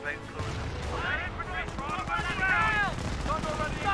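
Bren guns rattle in a Company of Heroes battle, distant overlapping bursts of automatic fire with explosions, under steady commentary.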